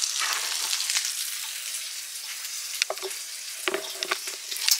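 Food sizzles and crackles steadily in a hot pan, with a few scraping, stirring sounds near the end; no talking.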